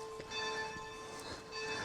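A single church bell rings, faint and far off, its sustained ringing tones hanging over soft outdoor ambience. No talking.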